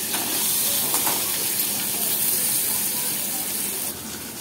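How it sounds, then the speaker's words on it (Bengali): Potatoes frying in hot oil with black cumin, a loud, continuous sizzle and crackle close up, steady throughout with no talking. "আলুগুলো দিয়ে ভালো করে ভেজে নেব।"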